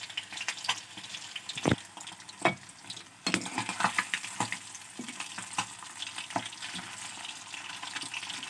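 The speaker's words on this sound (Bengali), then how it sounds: "এই তো এখানে শিং মাছ ভেজে নিচ্ছি।" Stinging catfish pieces fry in a pan with a wet, crackling sizzle. Irregular spits and pops and sharp clatters from turning the fish break through, close and fairly quiet.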